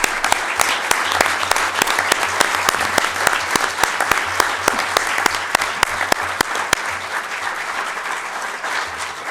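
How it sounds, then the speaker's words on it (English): Sustained applause from the audience at a Sacramento city council meeting, loud and dense with sharp individual claps, continuing steadily for several seconds with no talk over it. "That deserves a round of applause."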